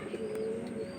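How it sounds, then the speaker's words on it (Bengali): A high-flying Giribaz pigeon coos softly nearby, with faint ambient rustle, as it is released at a pigeon market. "উড়ানো কবুতর এই যে ছাইরা দিতেছে প্রমাণ"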